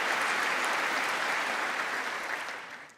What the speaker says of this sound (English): They clap too quick.